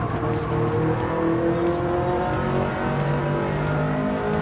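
Racing car engines in Gran Turismo 7 rev and drone continuously at high pitch, several harmonics rising and falling together as the cars accelerate, with no talking.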